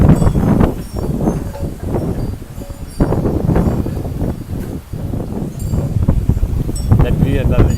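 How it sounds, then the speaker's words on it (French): Strong wind blowing ahead of a torrential storm, loud gusty rushes that buffet the microphone in uneven surges, with brief lulls between gusts. "Il y a du vent."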